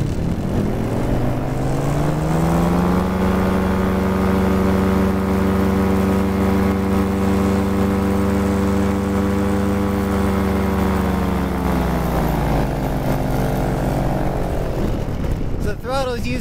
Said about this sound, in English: I could also throttle up if I want to, but it makes a lot of noise, but that'll give me more lift